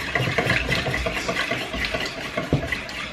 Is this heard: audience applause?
no